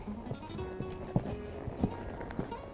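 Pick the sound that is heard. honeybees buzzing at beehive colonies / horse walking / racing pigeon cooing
horse walking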